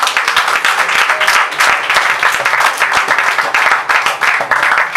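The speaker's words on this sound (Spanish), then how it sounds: "Denle un aplauso al Señor." A Spanish-speaking church congregation claps loudly and close, a dense, slightly pulsing burst of many hands that continues without pause for the whole stretch.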